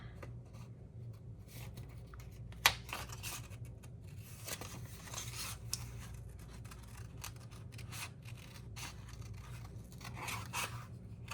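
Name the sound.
cutting a paper seashell printable along the edge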